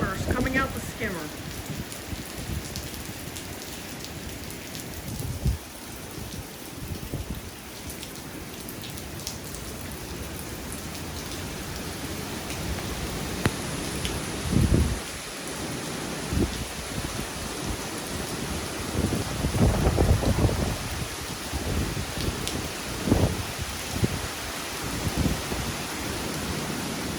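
Heavy rain from Hurricane Delta pours steadily onto surfaces in Louisiana, a dense continuous hiss with scattered nearby drips and splashes, swelling louder in gusts toward the end.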